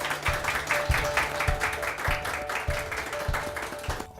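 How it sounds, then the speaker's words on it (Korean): Applause from staff at a Korean cereal company marking the end of a four-day internship, with broadband clapping sustained throughout alongside a steady hum and some rhythmic thumps. "여러분들 수고했는데 큰 박수 한번 쳐주세요"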